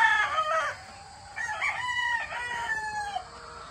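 Gamefowl roosters crow in a breeding area, two or three loud, close cock-a-doodle-doo calls following one another with brief clucking between, no talk over them.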